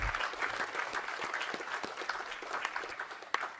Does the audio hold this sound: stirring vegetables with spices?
no